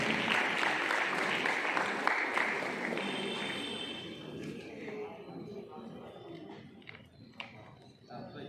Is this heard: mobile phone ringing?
no